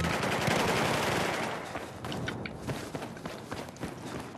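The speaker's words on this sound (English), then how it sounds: "I just followed the people's gunshots" Gunfire in the video game Battlefield 4 crackles as dense, rapid bursts, heavy at first and then thinning into scattered shots and footstep-like clatter, with no talk.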